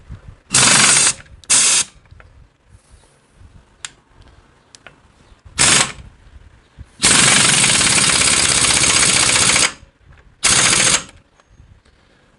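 A right-hand thread nut is tightened on the clutch of a 1965 Harley-Davidson Panhead with loud, harsh mechanical bursts: several short ones and one longer sustained run, separated by quiet pauses.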